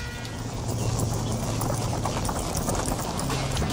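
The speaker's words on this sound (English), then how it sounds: "A foxtrotting horse traveling on a gravel or chat surface can be distinguished by the sound of this broken trot." Horse hooves crunch on gravel in a steady, broken trot rhythm, close and fairly loud, with no voices.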